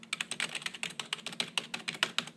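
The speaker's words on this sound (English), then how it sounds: "Dell keyboard that I actually got with the machine." Rapid, uneven typing on the stock Dell keyboard bundled with a Dell Dimension C521 desktop, crisp key clicks close to the microphone with no talking.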